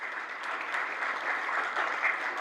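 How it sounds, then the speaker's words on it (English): Audience at a bank business-banking launch event applauding, a dense steady wash of clapping from a crowd, moderately loud and sustained for the whole stretch. "Give our partners a big round of applause"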